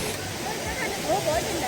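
Cold water pours down Bhagsunag Waterfall in Dharamshala with a constant roar, while a person speaks over it in bursts.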